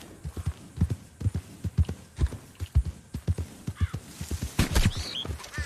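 Horse hooves clop along a trail in the video game Red Dead Online, arriving in a quick, even gallop rhythm with a brief whinny-like call near the end and bird sounds mixed in.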